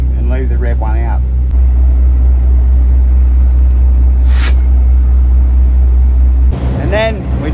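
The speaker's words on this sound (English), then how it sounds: "we're just going to move the truck up a little bit so it clears the pin" A truck engine rumbles loud and close as the rig eases forward away from its trailer, a deep steady drone with a brief hiss partway through; someone talks over the start and end.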